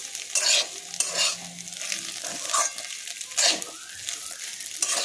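Spiced semolina-ball filling seasoned with garam masala being stirred in a pan, a close scraping, rustling stir with soft sizzling in repeated strokes and no talking.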